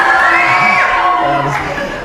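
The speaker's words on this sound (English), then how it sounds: "now why don't you just out-cheer those high school kids right now?" A crowd of middle school kids cheering and shouting in an audience, loud and sustained with whoops rising over the roar.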